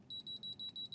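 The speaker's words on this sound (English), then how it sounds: "So please excuse the beeping," An electronic multimeter beeps in steady rapid pulses, a thin high tone repeating about seven times in a second, fairly faint with no talk.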